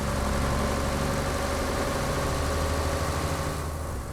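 Marmon 110p truck engine from American Truck Simulator idling steadily, a loud, continuous low rumble with constant vibration and no variation in pace.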